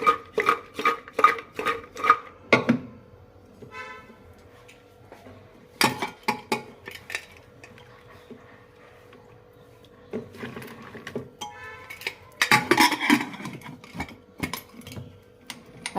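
A pressure cooker full of beans is handled on a gas stove, with sharp metallic clanks and clatters of the lid and pot in bursts, separated by quiet pauses.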